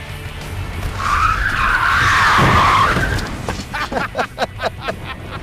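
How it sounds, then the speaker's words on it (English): Car in a Rockford reverse spin, slammed backward and whipped around into drive, sends out a loud sustained tire skid lasting about two seconds, then trails off into revving and rhythmic tire chirps as the car pulls away. "The key to doing a Rockford is to nail it in reverse."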